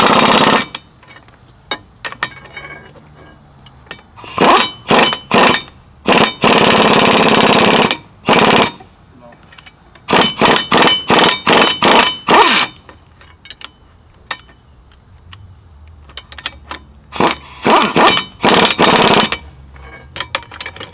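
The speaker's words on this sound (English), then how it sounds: "You just kind of snug them down with a smaller impact for now." A small impact wrench snugs track pad bolts on a CAT D7R bulldozer, firing in loud rattling bursts of one to two seconds, several in quick succession, separated by quieter pauses.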